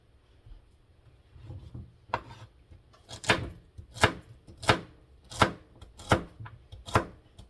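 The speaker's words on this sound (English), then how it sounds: "while I get these chopping and that simmering" Steady rhythmic knife chops through vegetables on a cutting board, about one sharp knock per second, close and distinct, with no talking.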